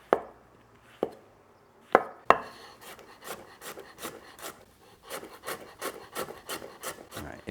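A knife slices large shiitake mushrooms on a board for a chicken stir-fry: a few sharp isolated cuts at first, then a quicker run of rhythmic close chops, crisp and fairly quiet.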